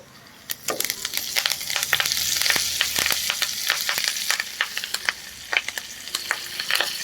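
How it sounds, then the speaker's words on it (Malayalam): Drumstick leaves get stirred into dal in a pan for a Kerala parippu muringayila curry, with repeated spoon scrapes and clicks over a soft sizzle, close and fairly busy. "ഒന്ന് മിക്സ് ചെയ്ത് കൊടുക്കുക"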